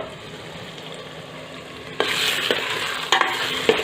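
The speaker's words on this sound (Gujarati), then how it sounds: "ટમેટાને મિક્સ કરી મીડિયમ ફ્લેમ કરી લેવી અને આપણે ઢાંકી દઈશું જેથી આપણા ટમેટાં જલ્દી કૂક થઈ જાય। વચ્ચે વચ્ચે હલાવતા રહેવાનું છે।" Tomatoes for pav bhaji cook in a pan over a medium flame, a soft simmer that swells into louder sizzling and scraping as a spoon stirs them, with no talking.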